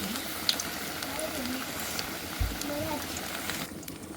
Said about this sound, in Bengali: দেখুন এরকম করে অল্প অল্প করে সব ভেজে নেব